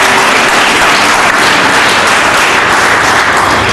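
An audience claps for a speaker at the Samskrita Ganga 2017 Sanskrit event, producing loud, dense, continuous applause that fills the room without a break.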